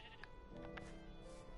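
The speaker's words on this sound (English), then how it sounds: "I guess I have a sheep in my backyard now" A sheep in the Minecraft video game bleats, a few short, faint nasal calls repeating in quick succession over low background noise, with no voices.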